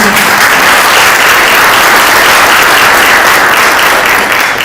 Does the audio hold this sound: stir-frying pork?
no